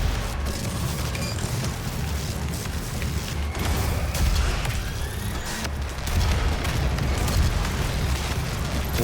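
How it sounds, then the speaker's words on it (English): Rocket explosions in the Doom video game roar in a dense, continuous barrage of booms and blasts, loud and sustained with a few heavier surges. "we're trading rockets for rockets right now"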